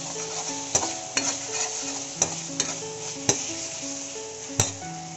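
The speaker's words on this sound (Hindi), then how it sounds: "अब हमारे मसाले भून गए होंगे, अब हम इसमें डालेंगे 1/2 चम्मच सोया सॉस, 1 चम्मच ग्रीन चिल्ली सॉस" Spices frying with soy sauce and green chilli sauce for a paneer frankie, with a steady loud sizzle broken by sharp, regular clacks of the spoon striking the pan as it is stirred.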